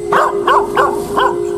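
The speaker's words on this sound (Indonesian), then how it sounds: "anjing masih menggonggong" A dog barks four times in quick succession at night near a hilltop temple, the barks fairly close and clear over a steady background hum.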